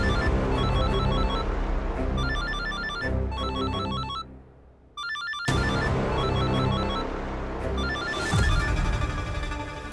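A telephone rings in repeated electronic bursts of bright warbling tones, with a short quiet gap midway before the ringing resumes, loud and close with no talking.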